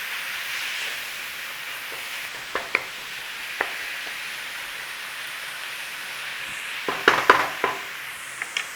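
Minced beef for pasties cooks in a pan with a soft, steady sizzle and hiss, broken by sharp clicks and knocks of a utensil breaking it up, clustered near the end, without speech.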